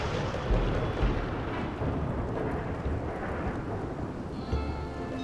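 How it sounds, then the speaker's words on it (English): A thunderstorm with rain in the video game Rimworld, heavy rain hissing steadily with low rumbling thunder rolling underneath, dense and continuous throughout with no talking. "there goes the rain."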